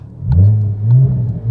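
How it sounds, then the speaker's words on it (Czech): A Porsche 911 fitted with a new custom exhaust gives two short, loud, deep revs in quick succession, heard up close with no talking. "Já jsem se konečně dokopal k tomu tady natočit zvuk Porsche."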